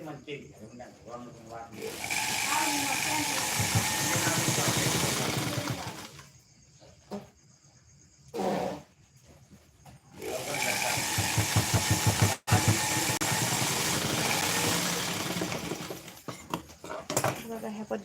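A sewing machine stitches the side seam of a garment in a home tailoring setting, running in steady mechanical bursts with short pauses between runs, while someone talks over it.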